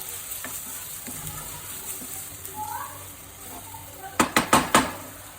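Finely chopped onions fry in hot oil with a steady, soft sizzle, broken near the end by a quick run of four metallic clanks from stirring in the pan.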